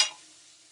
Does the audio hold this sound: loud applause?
no